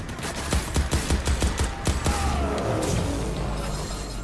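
Enemy gunfire from Crackdown 3 rattles out in a rapid burst of close, heavy shots lasting about two seconds, then fades into a lingering rumble and faint mechanical hum.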